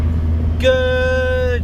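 Inside a moving Volkswagen T4 van on the way to the garage, a low, steady engine drone hums under a man's brief spoken word.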